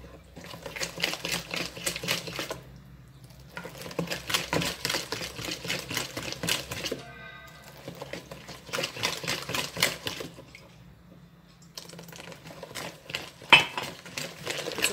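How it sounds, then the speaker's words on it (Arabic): A utensil clatters rapidly against a bowl while mixing batter, in bursts of fast, rhythmic scraping and tapping, with short quiet gaps between bouts. "ونستمر في التخليط"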